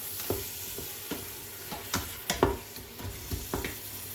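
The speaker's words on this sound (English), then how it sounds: "Give it a good stir." Fresh tomatoes being stirred into a pot of spiced Indian urad beans, with soft scraping strokes at irregular intervals over a faint sizzle, close and fairly quiet.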